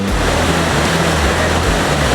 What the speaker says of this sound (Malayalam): നിങ്ങൾക്ക് കേൾക്കാൻ പറ്റുമല്ലോ അരുവിയുടെ ശബ്ദമൊക്കെ